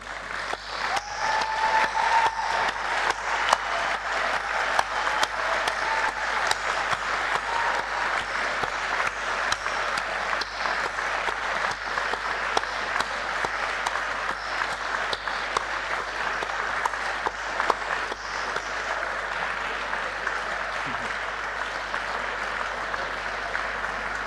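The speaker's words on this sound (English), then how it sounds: "give them a round of applause and a big cheer" A large university graduation audience standing to applaud family and friends, a dense, loud, sustained wash of clapping that holds evenly throughout, with no voices over it.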